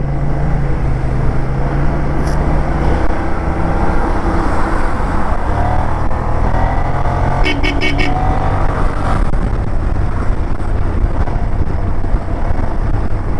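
A car speeds along a Philippine highway, its steady road roar and wind noise filling the whole span without pause, with brief faint higher sounds of passing traffic around the middle.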